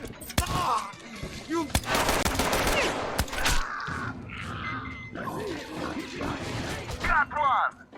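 Metro Exodus firefight on the Volga bridge: loud bursts of rifle and machine-gun fire in several volleys, with clanking mechanical impacts, shouting voices and grunts between the shots.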